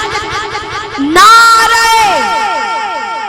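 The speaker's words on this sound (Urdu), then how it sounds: "بھرپور نعرے کی گونج میں آپ کا استقبال کرنا ہے" A crowd at a religious gathering bellows a loud, unified slogan in response to a leader's call: one sustained, swelling roar of many voices after a short lead-in, with harmonic chanting that gradually tapers off.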